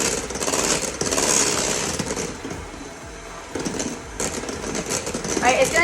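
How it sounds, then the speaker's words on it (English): An electric mixer on high whips a macaron-style mixture in a bowl, a close, loud, continuous whirring grind with shifting tone and occasional rattles as the beaters hit the sides, with a brief voice at the end. "now I'm gonna mix this on high till peaks are formed."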